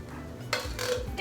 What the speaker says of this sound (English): you take apple pie filling and you dump it in a bowl and chop it up so that they're smaller pieces